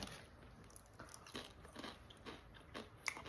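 Crispy fried durian is bitten and chewed close up, giving soft, quiet crunches repeating in an irregular rhythm over a few seconds.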